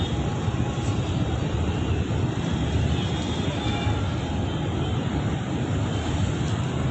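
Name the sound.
Krishna river water flowing strongly at Vijayawada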